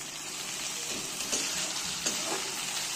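Chopped tomato stir-frying with capsicum for veg masala chowmein, a steady moderate sizzle with a couple of soft stirring scrapes, fairly quiet and even throughout.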